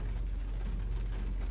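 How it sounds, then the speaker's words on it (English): Heavy rain falls in Chapada dos Veadeiros, Brazil, as a steady, close wash of noise with a low rumble beneath, unbroken and free of voices. "We're just going to wait for this rain, heavy rain, to stop, and then we'll make a decision"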